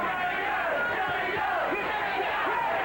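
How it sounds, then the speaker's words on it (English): An arena crowd at a boxing match in Atlantic City, a dense, sustained roar of many voices chanting and cheering, loud and steady throughout, with no single voice standing out. "And the crowd here in Atlantic City going for the underdog. They're chanting Jimmy Young's name."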